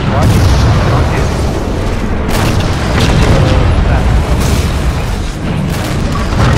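Loud, booming explosions from rockets fired in a multiplayer video game match, with blasts and bursts layered over continuous dense game noise and voices talking throughout.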